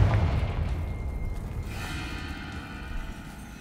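Confringo spell explosion in Hogwarts Legacy: a deep, rumbling boom right at the start that decays into a long, roaring tail over a few seconds, loud and close.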